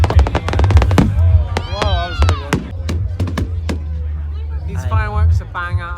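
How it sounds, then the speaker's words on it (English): Fireworks exploding on Bonfire Night at the University of Stirling: a rapid volley of sharp bangs opens, followed by scattered single cracks and whistling, crackling bursts, with a crowd murmuring and voices throughout. "These fireworks are bang out of order."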